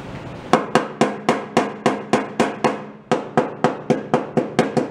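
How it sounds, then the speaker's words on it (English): A hammer striking the rusty quarter panel of an old Ford Econoline pickup, about twenty sharp metallic whacks in quick, even bursts with a brief pause midway, close and loud, no talking. "Let's go whack on them with a hammer."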